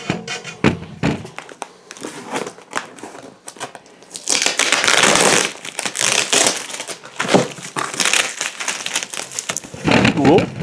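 Packaging for a Secret Jardin DR150 Dark Room grow tent being torn open: loud, close crinkling and crushing of plastic and cardboard in bursts that build to a long rustle, with brief talk over it.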